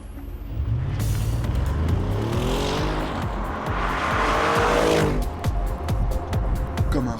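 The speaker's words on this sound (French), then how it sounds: "Comme un rafale qui s'envole dans un vacarme assourdissant, la RS7 se fait entendre en pleine accélération" A 605-horsepower Audi RS7 accelerating hard from a standing start on a track, a loud rising engine roar climbing through gear changes with tire noise, close and dominant throughout, no voices.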